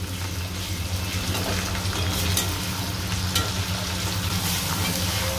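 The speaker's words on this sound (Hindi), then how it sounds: "अब लहसुन अदरक के पेस्ट को भी भून लेंगे।" Garlic ginger paste frying with onions in a pan for a potato and capsicum dish, a steady close sizzle with occasional stirring scrapes, continuous and even throughout.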